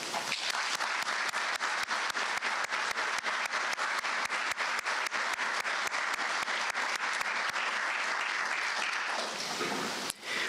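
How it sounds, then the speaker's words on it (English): Sustained applause fills a hall at an Air Force ROTC commissioning ceremony, many hands clapping evenly for about ten seconds with sharp individual claps standing out, before cutting off abruptly near the end. "it is a feat that deserves a round of applause"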